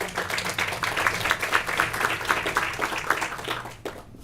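A hospital quality summit audience gives brief applause for a poster: a dense patter of clapping hands that fades near the end, with a faint low hum beneath and no talk.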